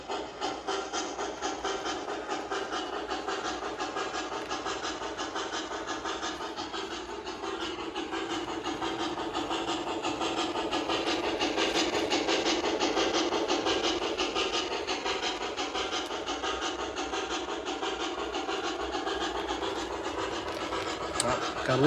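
An MTH HO scale GS-4 4449 model locomotive rolls along the track with a steady, faint scratchy rumble and hiss, swelling slightly in the middle as the throttle is raised, heard alone.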